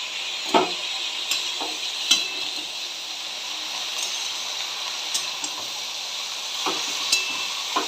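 Red amaranth leaves tossed into hot oil with dried chilies and five-spice seasoning, a constant close sizzle punctuated by occasional sharp clinks and scrapes of a utensil against the pan.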